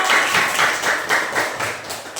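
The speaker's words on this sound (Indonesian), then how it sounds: "Tepuk tangan untuk Zola." A group of classroom children clap together for a classmate: close, busy rhythmic clapping that rises and falls in steady bursts, with little talk.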